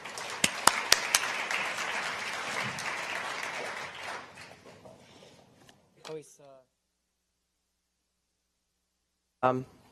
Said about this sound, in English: give a warm round of applause to the CEO of Social Bakers, Jan Rezab